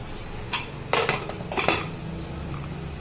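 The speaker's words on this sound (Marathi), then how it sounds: "आपण आता कुकर बंद करतोय" Metallic clatter of a pressure cooker lid being handled and locked onto the cooker, with a few sharp clanks and scrapes close by, no talking.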